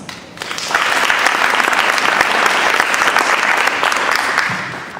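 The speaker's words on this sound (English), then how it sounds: "a round of applause" A crowd at a membership meeting breaks into sustained applause, many hands clapping densely and steadily for several seconds before tapering slightly at the end.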